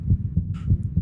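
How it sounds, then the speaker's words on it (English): Heartbeat effect from Minecraft's Decked Out dungeon game: a loud, low, rhythmic double thump repeating steadily and quickly, with a brief faint higher sound in the middle. "I think I heard heartbeats pretty quickly."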